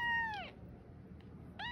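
A two-week-old kitten soaking in Epsom salt water gives two thin, high meows, one at the start and one at the end, with a quiet pause between them and no talk.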